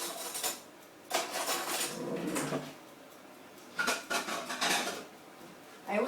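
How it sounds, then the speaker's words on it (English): A knife cuts a slice from a gluten-free red velvet cake, making several close scraping and clinking strokes in separate bursts, with quiet pauses between them. "I'll cut a slice just to show you"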